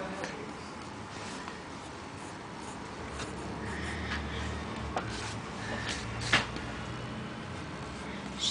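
Pencil drawing on paper, soft intermittent scratchy strokes up close with a few sharper taps, fairly quiet throughout.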